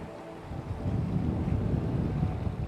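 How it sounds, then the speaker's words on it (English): Wind blows about 20 knots from behind a sailboat under way off the Swedish west coast, a steady low rushing roar with buffeting against the microphone and no voices. "the wind is around 20 knots from behind, and we're doing like 6 to 7 knots speed over ground"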